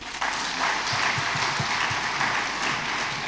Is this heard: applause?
yes